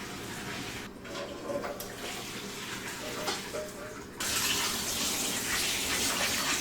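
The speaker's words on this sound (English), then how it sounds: "The next step is to drain off this water and thoroughly rinse these feet under cold water." Cold tap water runs over boiled chicken feet in a kitchen, a steady splashing stream that turns noticeably louder and fuller partway through.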